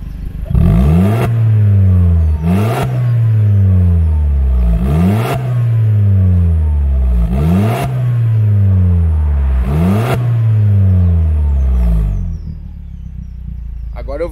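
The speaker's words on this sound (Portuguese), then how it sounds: "Vou deixar a câmera aqui atrás para vocês ouvirem o ronco dele aberto e fechado. Primeiro fechado." A modified VW Polo GTS engine revs repeatedly with its exhaust valve closed, about seven sharp rising bursts each falling back to idle, loud and close with a muffled, throaty tone, then settles down.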